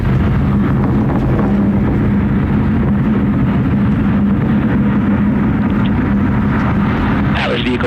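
An Atlas V 401 rocket's RD-180 engine in flight during the Lucy mission launch gives a loud, steady, broadband roar with deep rumbling that holds unbroken throughout.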